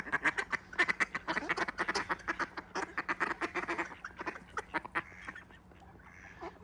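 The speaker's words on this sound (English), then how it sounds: "You know what, ducks?" Ducks by the River Spey quack in a rapid, busy chorus of overlapping calls, loud and close at first, then thinning toward the end, with no talking.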